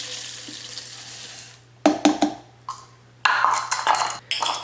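About three and a half cups of water go into a blender jar for homemade oat milk, with a steady rushing pour at first, then a pause and several short splashes and pings against the jar, close by.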